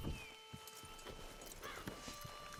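Horse hooves clip-clop at a steady walking pace in Red Dead Redemption 2, faint and moderately distant, with a brief neigh-like tone partway through.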